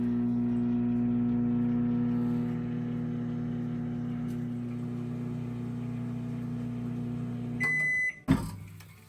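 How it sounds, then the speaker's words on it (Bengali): A microwave oven hums steadily while fish cooks inside for a one-minute run, a close, even drone that stops near the end with a short beep and a clunk of the door. "এবার আবার একবার আমি মাইক্রোওয়েভ ওভেনে দিয়ে দেব"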